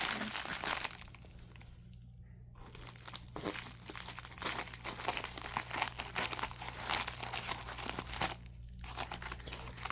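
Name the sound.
cutting open comic packaging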